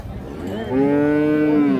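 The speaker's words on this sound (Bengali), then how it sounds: "এখানে একটা দেখছি গাভী" A Holstein Friesian cow gives one long, loud moo that swells and holds steady, close by at a cattle market, with a little background noise just before it.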